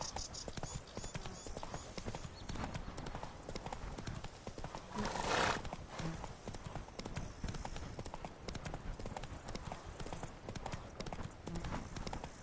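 Roach the horse galloping in a video game, rapid rhythmic hoofbeats driving steadily throughout with a short whooshing swell in the middle.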